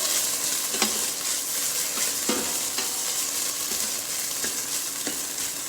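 Brown sauce ingredients roasting in a pan, giving a steady close sizzle with occasional sharp scrapes and clinks of a spoon stirring through the mixture.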